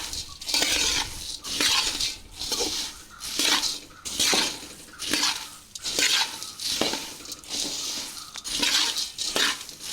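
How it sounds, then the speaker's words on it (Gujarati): Puffed rice (mamra) stirred in a pan, a spoon sweeping and scraping through the dry, crisp grains in steady rhythmic strokes, loud and close with no talk. "આ રીતે મમરા હલાવી અને તૈયાર કર્યા બાદ"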